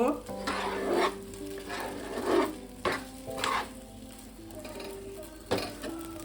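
A spoon scrapes and stirs thick semolina dough for homemade rasmalai in a pan, giving close, repeated scraping strokes over a soft sizzle with short pauses between them.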